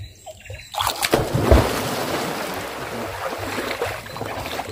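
A person jumps into a fresh river pool in Kampong Serinjok, Borneo, landing in one loud splash followed by sloshing, churning water and outdoor background noise.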